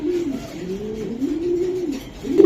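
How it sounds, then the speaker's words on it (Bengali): A foreign-breed racing pigeon coos in a low, rolling, continuous murmur close by, with little else around it. "এটা বিদেশি দোয়ারের কবুতর ভাই"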